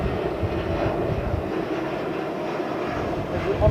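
An ANA Boeing 777 departs runway 27R at London Heathrow with a loud, steady, broadband jet roar that holds level for the full length, close and sustained.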